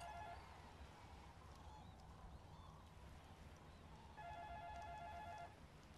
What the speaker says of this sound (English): Sorry about the phone, guys.